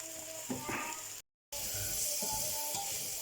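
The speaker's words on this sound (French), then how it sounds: "je vais ajouter mes champignons et mon ail" Mushrooms and garlic sizzling in a hot pan with a steady frying hiss, broken by stirring clatter and a brief cut in the sound before the sizzle carries on.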